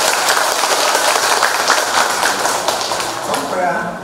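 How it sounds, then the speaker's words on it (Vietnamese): An audience at a village elders' association meeting gives a sustained burst of clapping that rises and holds, then starts to fade near the end, with a voice talking over it. "xin hội nghị có một tràng pháo tay thật to để cảm ơn tất cả"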